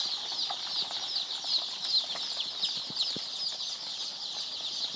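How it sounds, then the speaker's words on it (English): A brooder of 1200 one-day-old layer chicks fills the air with constant high chirping and occasional wing flutters, busy and close. "These are 1200 1 day old layers birds."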